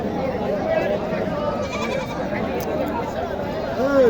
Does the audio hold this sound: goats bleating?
yes